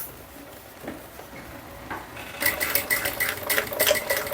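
A home sewing machine stitches a fabric bag, quiet at first, then a rapid mechanical clatter of stitching starts and runs steadily near the listener.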